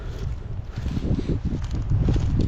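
Strong wind buffets the microphone at a hilltop observation tower ruin in Kozłowa Góra, Piekary Śląskie, a constant low rumbling roar with gusty fluctuations and no voices.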